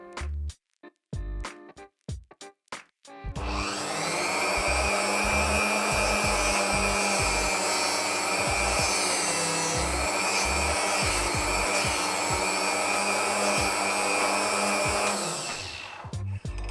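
An electrode sharpener grinds a tungsten electrode for TIG welding, a loud, continuous high whine after a few sharp clicks, holding steady for over ten seconds before spinning down.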